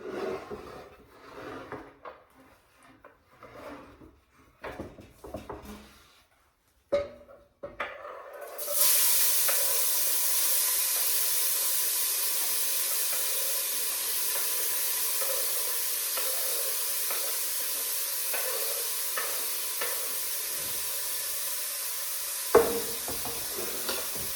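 Chopped onion, carrot and celery hit a hot pot and settle into a steady, broadband sizzle that runs on evenly after a few quieter clatters of utensils at the start.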